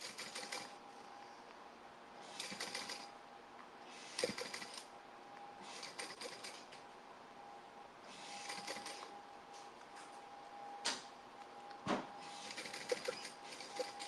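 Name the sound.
sewing machine top stitching a tote bag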